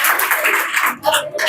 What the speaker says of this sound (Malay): Bagus, beri tepukan.